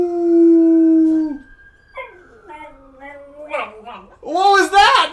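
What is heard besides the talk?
dog howling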